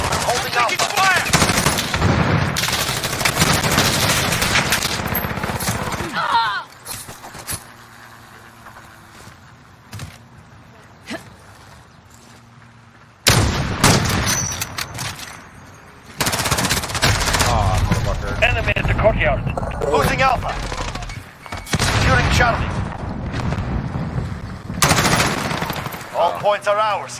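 Gunfire from a Modern Warfare multiplayer match: loud bursts of automatic fire in several long volleys, separated by quieter gaps, with in-game voice callouts mixed in.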